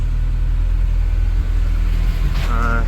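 A warmed-up Porsche 924 Turbo idling close by, a loud, even low engine rumble that holds steady throughout, with a brief higher tone near the end.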